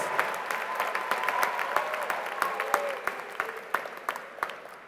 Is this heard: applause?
yes